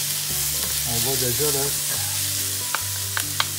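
French shallot sizzles and fries in a pan over moderate heat, a steady close crackle that runs throughout, with a few light clicks and knocks near the end.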